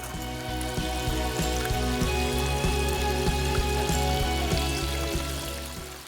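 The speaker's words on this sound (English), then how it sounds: "now it's a matter of filling it up with water and turning on the waterfall" Water filling a newly built garden pond while its waterfall runs, a steady continuous splash and trickle heard under a constant low mechanical hum.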